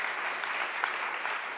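An audience claps in a short burst of steady, dense applause, close and even in loudness throughout, with no talking over it.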